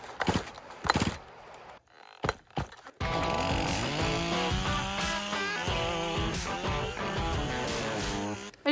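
A chainsaw without a decompression valve is started: a few sharp pull-cord tugs with short gaps, then the engine catches and runs loud and steady at close range.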